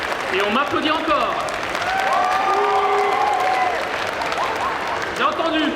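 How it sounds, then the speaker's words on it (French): Sustained crowd clapping fills a cosplay parade at a fan convention, dense and continuous from start to finish, with scattered voices and brief cheering over it. "Et on m'applaudit encore."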